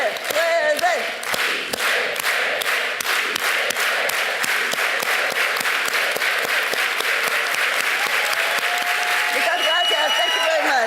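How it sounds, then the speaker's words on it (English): Lecture audience joining in a rhythmic, organized hand clap, steady unison beats repeating loud and close throughout, with some chanting voices mixed in. "Let's do an organized hand clap."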